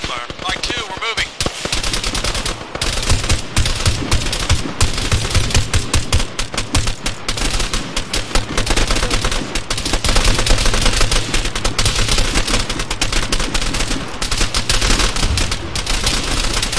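Sustained, loud Arma 3 gunfire as dense rapid cracks of automatic and rifle fire that roll on almost without a break, close and distant shots overlapping, with a voice briefly heard.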